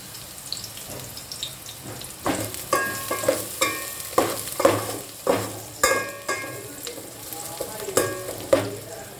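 Tempering spices for Andhra-style dal sizzle and crackle in hot oil while a spoon scrapes the pan in a steady stirring rhythm.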